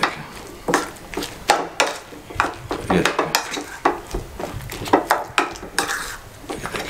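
Mayonnaise is mixed in a bowl with a spoon, giving a series of irregular scraping and clinking strokes against the dish, close and fairly loud, with a voice talking faintly in between.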